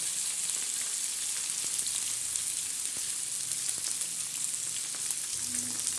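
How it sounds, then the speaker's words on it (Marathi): Onions and peanuts fry on a griddle for poha, giving a continuous hissing sizzle that stays even and moderately loud, with a few soft pops. "चांगलं लालसर होऊन द्यायचं या पद्धतीने चांगलं लालसर आणि कांदा चांगला भिजू द्यायचा आणि नरम होऊन द्यायचा"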